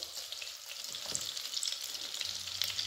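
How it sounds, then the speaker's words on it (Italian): Pieces of veal sizzling as they brown in butter in a pan over high heat, a steady, close, bright frying hiss with faint stirring sounds. "Anche se il burro non è sciolto, aggiungo la carne."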